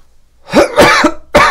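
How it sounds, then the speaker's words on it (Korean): Three sharp coughs in quick succession, close and loud, with a short pause before the last one. "기침이 계속 나고"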